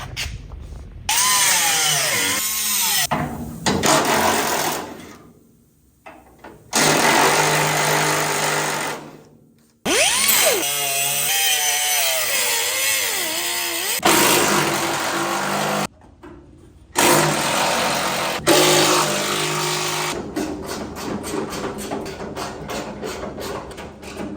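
A power tool cuts spot welds loose on the bed of a Chevy C10 pickup: loud, harsh whining bursts of grinding metal, several runs separated by short pauses, close up and alone.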